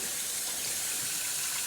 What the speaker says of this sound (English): I like to fill my pan up with cold water